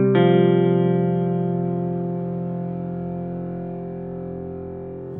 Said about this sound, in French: il y a une grosse reverb inversée derrière